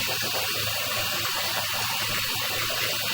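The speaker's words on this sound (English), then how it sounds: "we run both the sink and we have the bathtub running" Water runs steadily from a bathroom sink and bathtub together, a constant broad hiss and rush with no breaks, close by and moderately loud.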